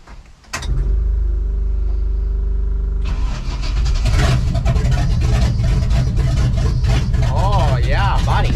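A Chevrolet C10 truck engine with open headers cranks and catches, then runs loud and raw with uneven revving and a rough, throaty rumble close by, with voices talking over it.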